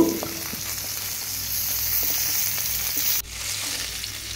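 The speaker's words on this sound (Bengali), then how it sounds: "মাছগুলো আমি হালকা করে ভেজে নেব" Steady hot-oil sizzling of koi fish frying in mustard oil in a pan, a constant crackling hiss that drops briefly near the end, with no talking.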